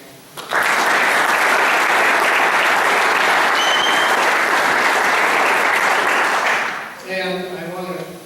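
An audience at a mini grants event breaks into loud, sustained applause for the awardees, a dense wash of clapping for about six seconds that fades out as a voice starts to speak.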